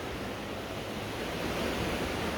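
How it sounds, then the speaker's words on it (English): Ocean surf washes continuously right beside an oceanfront condo in Kona, Hawaii, a broad, steady hiss of breaking waves heard close and moderately loud with no voices. "we're directly on the ocean."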